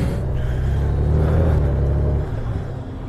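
A 2020 Honda Goldwing DCT motorcycle pulls away in econ mode, its engine a steady, loud low rumble that builds gently then eases off, heard close from the rider's seat with wind noise and no talk.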